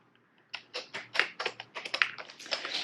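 Fast typing on a Chester Creek VisionBoard2 high-contrast keyboard, a brisk run of close, crisp key clicks after a short quiet start, steady and uneven in rhythm with no talking.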